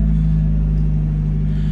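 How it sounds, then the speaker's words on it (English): A Mazda Miata creeps out of a rough shop driveway, its engine giving a loud, steady low rumble close to the microphone with no clear revving. "I'm just gonna drive it around the little neighborhood that the shop's in."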